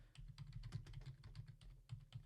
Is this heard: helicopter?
no